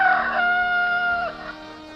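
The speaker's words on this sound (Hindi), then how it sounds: "रात्रि बीतने के बाद मुर्गे ने बाग लगाई" A rooster crows once at daybreak, a long drawn-out call that is loud and near at first and tapers off toward the end, with no voices over it.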